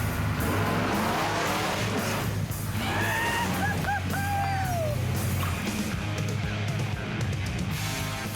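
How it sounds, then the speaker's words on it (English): A Ford truck with old leaf-spring suspension grinds up wet rock, its engine labouring loudly and steadily throughout, with a few brief high squeals or whines partway through over the heavy rumble. "Crawling up wet rock is one tricky situation for a truck of this size"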